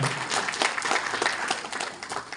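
An audience at a symposium bursts into brief applause, dense clapping from many hands, fairly close and full before tapering off slightly at the end.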